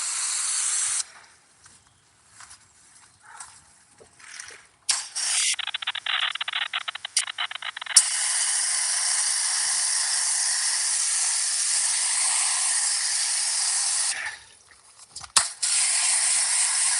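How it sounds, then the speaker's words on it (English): Spray sealant hisses from a can onto a BMW x135i: short bursts give way to a long, steady close spray with brief pauses, then a final burst. "Put some spray sealant on it."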